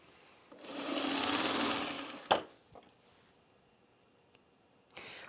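A sewing machine stitches a seam in one steady whirring run of about two seconds, then a sharp clack and a few light handling taps in a quiet room.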